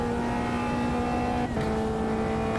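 A Caterham race car in Automobilista 2 holds a loud, steady engine drone, then a brief dip and gear change midway before the engine pulls again at a new pitch, close and alone.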